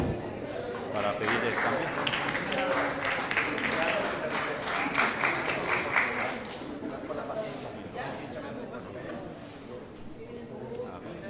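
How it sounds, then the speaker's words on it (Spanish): An audience clapping to welcome a speaker at a university lecture on water culture, a dense round of applause that swells and then gradually tapers off, moderately distant. "Recibamos con fuerte aplauso."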